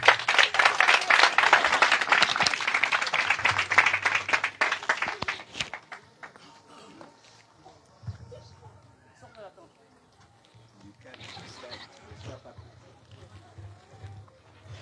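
A crowd at a Haitian political rally applauds and cheers loudly for about five seconds. The noise then fades to scattered voices and talk, with a smaller burst of cheering later.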